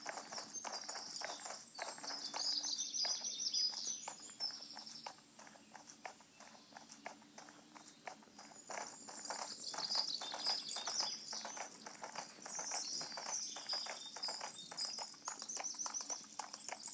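Horse hooves clip-clopping in a steady rhythm throughout the Horses 3D video game, with chirping birdsong layered above.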